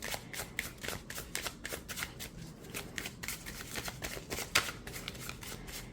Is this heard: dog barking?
no